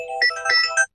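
A Voxione smartphone plays its alarm ringtone 'La grande aventure', a bright, short melodic phrase of clear electronic tones lasting about a second, heard alone.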